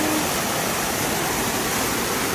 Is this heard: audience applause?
no